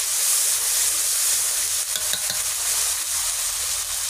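Tomato and salt sauté in a pan with a loud, unbroken hiss of frying and a few faint stirring scrapes near the middle, close up and with no voices.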